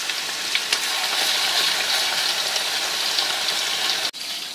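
Beef for dendeng frying in hot oil, a steady close sizzle that holds throughout before a brief cut near the end.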